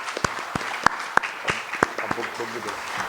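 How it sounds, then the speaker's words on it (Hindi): Audience applause honouring a doctor at a medical talk on paralysis and epilepsy, a short run of distinct, fairly sparse claps over a murmur of room sound. "तो डॉक्टर RN वर्मा का भी हम लोग ताली से सम्मान करें एक बार खड़े होके"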